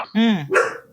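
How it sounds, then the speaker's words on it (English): A dog gives one loud, close bark followed by a shorter second yelp, indoors during a conversation, with no voices over the barks. "That's my dog."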